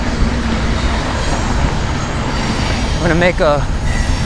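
Train rumbling past a city street, heard close from a bicycle as a steady loud roar with rolling wheel noise, while a cyclist talks over it.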